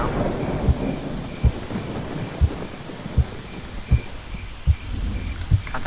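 Rain patters steadily through a horror video game, broken by a run of deep, regular thunder-like thuds roughly every second, with no voices.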